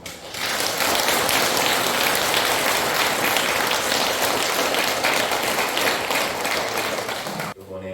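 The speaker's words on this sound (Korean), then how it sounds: "감사의 박수 한번" Congregation applause during a Catholic Ascension Day Mass at a parish church, a dense, loud wash of clapping that sustains for about seven seconds before dropping away.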